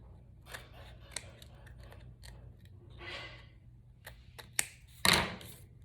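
Scissors snip through paper card pieces while trimming a floral tunnel card, a run of short crisp cuts near and fairly quiet, ending with a louder clipping burst.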